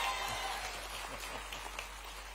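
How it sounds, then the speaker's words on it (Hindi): An audience applauds at an outdoor public event in Bhopal, making a continuous dense patter of many hands clapping at moderate distance, steady throughout with no voices. "ताली बजाओ तो अच्छी बजाओ"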